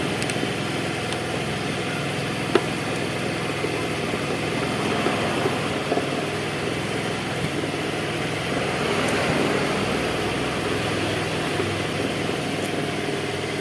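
A Honda Vario scooter engine with a sputtering, stalling fault idles steadily nearby with one charging connection unplugged, a constant low rumbling drone with a few faint clicks and no talking.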